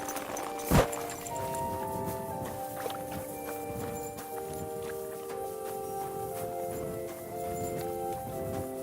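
Horse hooves clip-clop in the medieval world of Kingdom Come: Deliverance II, with a sharp snort or whinny near the start, then steady walking steps over an ambient music bed.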